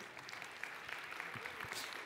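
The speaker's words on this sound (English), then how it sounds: "go ahead, clap" A small audience claps during a talk, a scattered patter of applause at low level for about two seconds, with a voice faintly underneath.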